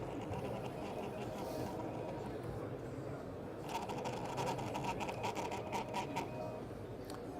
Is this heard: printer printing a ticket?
yes